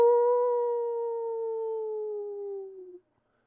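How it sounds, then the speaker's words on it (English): A single long howl from a death dog creature, a sustained mournful tone that slowly sags in pitch and cuts off after about three seconds, clear and isolated. "A death dog. But it's far away."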